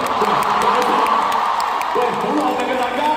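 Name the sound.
concert crowd cheering and applauding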